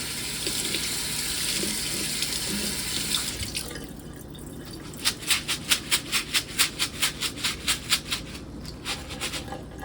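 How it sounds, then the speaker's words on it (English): Tap water runs steadily into a sink, then gives way to a rhythmic series of splashy sloshes as lentils are swirled and rinsed under the stream. "so I'll just give them another quick rinse"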